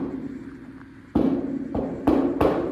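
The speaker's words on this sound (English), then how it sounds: "He said that hollow sound means that the panel is not stressed." Several sharp knocks on a hollow, unstressed 1949 Plymouth body panel, spaced unevenly, each ringing briefly against a steady low hum.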